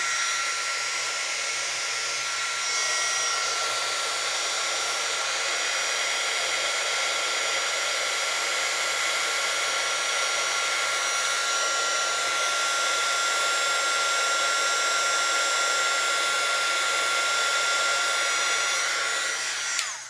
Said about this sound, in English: So let's hit it with the heat gun.